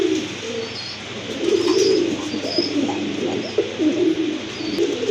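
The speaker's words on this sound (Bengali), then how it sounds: "আর এক জোড়া কবুতর বিগ সাইজের টপ লেভেলের এক জোড়া কবুতর" Large pigeons coo steadily and loudly, their low, throaty calls overlapping continuously and close by, with faint chirps above them and no talking.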